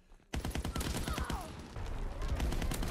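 Shotgun fire in the World War II video game Call of Duty: WW2, a sudden loud blast followed by dense, rapid rattling gunfire that keeps going.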